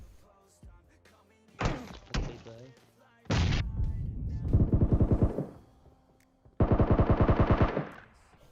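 Bots fire at a player in PUBG Mobile, first with a few sharp, heavy single shots, then with two loud, rapid automatic bursts close by.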